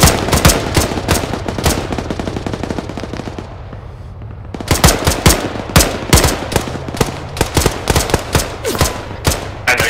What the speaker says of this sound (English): Dig in and return fire